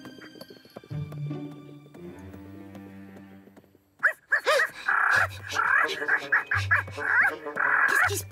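A dog whimpers and whines in short, wavering bursts over background music, with a voice speaking.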